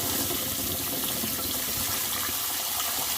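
Water gushes steadily from a tap while someone tries to get hot water, a loud continuous close-up rush lasting the whole moment.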